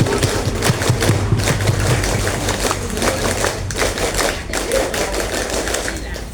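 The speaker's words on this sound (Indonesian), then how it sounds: "Tepuk Pramuka 2 kali." A group of scouts performs the Tepuk Pramuka scout clap twice at a school scout anniversary ceremony, giving loud, sharp rhythmic clap patterns from many hands with some voices mixed in.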